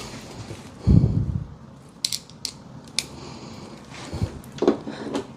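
A screwdriver turns small screws while fitting suspension rods on a Samsung WA50R5200 washer, giving close scattered clicks, ratcheting ticks and a heavier clunk early on, with no talk.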